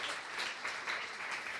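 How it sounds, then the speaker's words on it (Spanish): A church congregation applauds a brother after a sermon, a steady, moderately distant patter of many hand claps that carries evenly from start to finish without any voices. "Un aplauso para el hermano."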